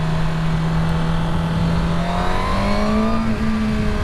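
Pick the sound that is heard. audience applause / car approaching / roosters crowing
car approaching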